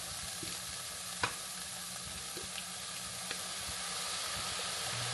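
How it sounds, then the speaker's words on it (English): Onions fry in a pan with a steady, close, crackling sizzle, broken by a few faint stirring clicks and scrapes, with no voices. "Let it cook until your onions start to get kind of clear."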